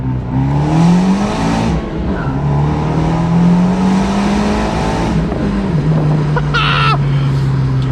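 An Abarth car engine revs hard close by, pitch climbing, dropping and climbing again as it pulls through first gear.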